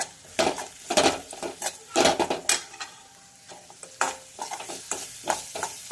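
Spices sizzle in a hot pan while a utensil stirs and scrapes in repeated bursts, close and fairly loud.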